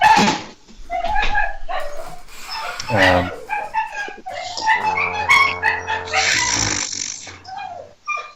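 Several dogs bark and yelp in bursts over lively overlapping conversation, with a stretch of sustained harmonic whining or howling in the middle.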